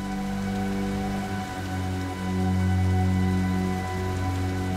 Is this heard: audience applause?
no